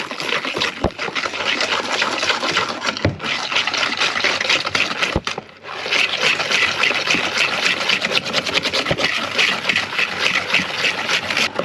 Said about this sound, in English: we have white sugar and light brown sugar, and you want to whisk it all in